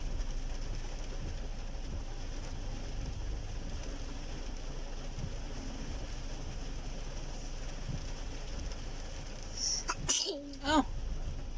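A child sneezes once near the end, a sharp burst close by, over a steady rumble of riding in a car through rain and thunder.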